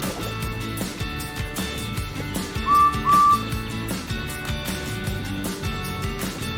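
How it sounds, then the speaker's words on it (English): A traction engine's whistle in a Roblox remake of Thomas and Friends gives two short, bright toots in quick succession, sounding over busy background music. "Beep, beep, whistled Trevor"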